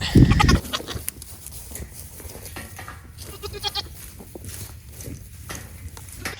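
Goats bleat on a farm near a barn, one loud close call opening, then several fainter overlapping cries and rustling continuing through the rest.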